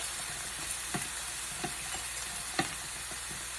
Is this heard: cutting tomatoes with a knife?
yes